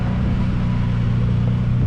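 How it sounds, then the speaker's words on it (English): Truck grinding up an off-road trail near Maupin, Oregon, with a constant heavy low engine rumble, loud and close, continuous throughout with no speech. "I know my truck can make it up."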